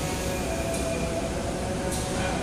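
Train rumbling at Pasar Senen station in Jakarta, a steady dense roar of rail noise with faint metallic squeals, nearby and continuous.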